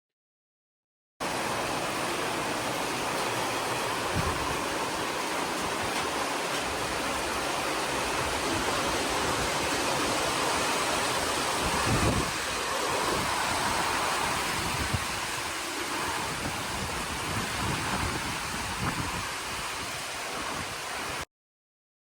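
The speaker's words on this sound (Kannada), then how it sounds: "ಎಷ್ಟು ಜೋರ್ ಮಳೆ ನೋಡಿ ಎಷ್ಟು ಗಾಳಿ ಬಂತು ಗೊತ್ತಾ ಗಾಳಿ ಅಲ್ಲ ಬಿರುಗಾಳಿ" Heavy rain pours down steadily with strong storm winds, a dense, loud, continuous roar that holds unbroken from start to finish with no voices.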